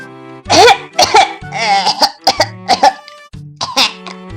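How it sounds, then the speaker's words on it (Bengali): An old man coughs in a sound effect for a Bengali audio story, with a series of close, hoarse coughs and throat-clearing bursts in quick, uneven succession. "একটু বাদেই শুনতে পেল হাত দশেক তফাতে বাঁ ধারে একটা বুড়ো মানুষের কাশির শব্দ"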